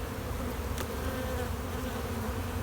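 Honey bees from a hive colony recovering after winter swarm and buzz in a dense, steady drone, close and continuous throughout, with no voices.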